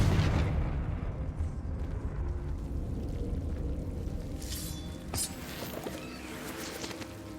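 Confringo spell explosions in the video game Hogwarts Legacy, a rumbling low boom that fades into steady roaring background noise, with a few sharp cracks and pops later on, moderately quiet.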